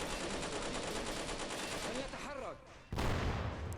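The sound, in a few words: tank firing point blank in war video game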